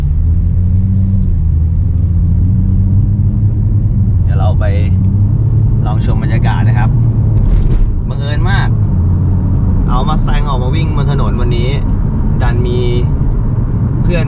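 Inside a Ford Mustang on Vibhavadi Road, a steady low engine and road rumble carries on as another Mustang overtakes, while someone talks over it through most of the stretch.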